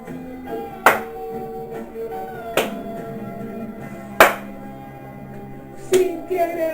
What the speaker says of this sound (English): Feel free to clap along like this